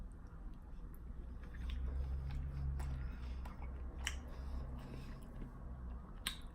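Soft wet chewing and biting of spicy kimchi noodles, close to the mouth, with irregular squishy smacks and occasional sharp clicks, quiet and unbroken by talk.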